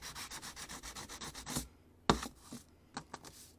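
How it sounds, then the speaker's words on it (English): A handheld abrasive sander rubs along HO scale code 100 model train track, about a dozen quick even strokes close up, then a sharp knock and a few scattered scrapes and taps. "So this sander"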